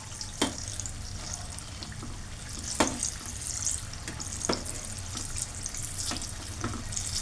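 Bhujia fries in a pan with a soft continuous sizzle, punctuated by several sharp scraping clacks of stirring at uneven intervals, close and fairly quiet.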